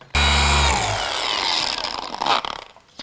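A Milwaukee polisher runs loud and close during a compound and polish test, a steady motor whine starting abruptly and holding for about two seconds before tapering off and cutting out.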